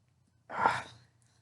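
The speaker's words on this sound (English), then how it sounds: "Sneezing." A single sharp sneeze bursts out mid-pause, one loud breathy explosion about half a second long that fades quickly, with a quiet room hum underneath and no talk.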